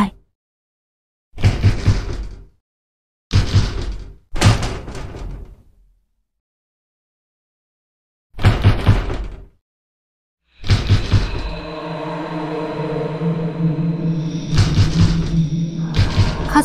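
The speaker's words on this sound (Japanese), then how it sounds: "ドアを叩く音はますます激しく大きく聞こえてくる" Heavy pounding on a door in the PSP horror game Shin Mimibukuro: separate loud bursts of thudding knocks with silent gaps between them, then a final stretch of banging layered over a droning, eerie rumble.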